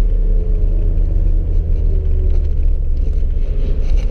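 A 1991 BMW 525i E34 engine pulling in second gear on the road, a deep continuous rumble with steady low drone and faint road noise, close and loud throughout.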